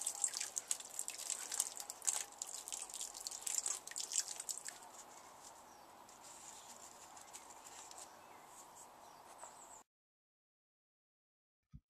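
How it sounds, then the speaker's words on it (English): Water sprinkles onto compost-filled seed trays, a soft pattering of drips and trickles, busier at first and then thinning, before stopping abruptly into silence. "water the seeds. Be careful not to be too vigorous or she'll wash the seeds away."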